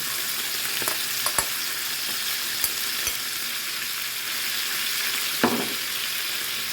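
Fried liver with fried apples and onion being stirred in a sizzling pan: a continuous hiss broken by several sharp clicks and scrapes of the utensil against the pan.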